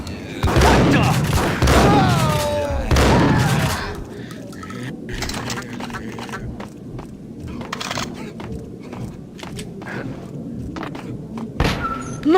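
Gunfire in the Max Payne video game, loud overlapping shots and heavy thumps in the opening seconds, then quieter scattered impacts and distant pops with some game voices.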